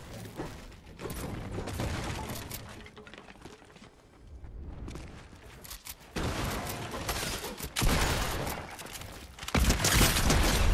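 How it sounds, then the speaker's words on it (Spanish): Gunfire in Fortnite, a shooter video game: bursts of shots and impacts in uneven clusters, with louder rapid volleys near the end. "Por aquí justo he escuchado más tiros"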